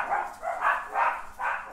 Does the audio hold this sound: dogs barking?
yes